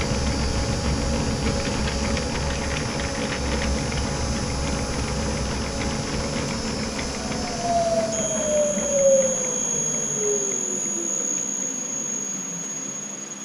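An Ammco metal lathe turning a workpiece slowly at 240 RPM, a steady droning hum with a high whine and a gliding squealing tone near the end, unbroken and without talk.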